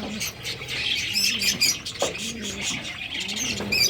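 High, busy chirping and squawking from birds, a close parrot-like chatter over a noisy background, with repeated short calls.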